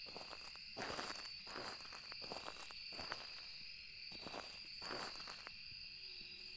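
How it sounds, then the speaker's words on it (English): Footsteps in a video game: a slow series of soft, evenly spaced steps over a constant high insect-like ambient drone, fairly quiet and moderately close. "Like, I hear the footsteps."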